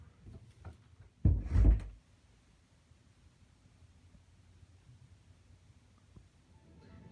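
Door of a room housing a soundproof mining box for two Antminers being shut, one short solid thud early on, followed by a quiet low hum of the enclosed machines.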